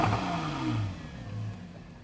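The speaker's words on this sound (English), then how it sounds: "That naturally aspirated flat 6 engine is incredible." A Porsche 911 Carrera GTS with a naturally aspirated flat-six engine and sports exhaust rumbles steadily, with a low engine drone that shifts in pitch as it revs, heard with no talk.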